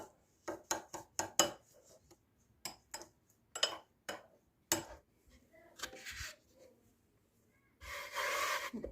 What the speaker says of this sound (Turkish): Tahinle şekeri karıştırıyorum